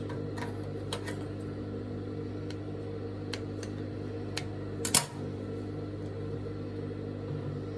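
A sewing machine runs steadily while stitching a front twist dress, a continuous low mechanical hum with a few faint clicks and one brief louder knock near the end.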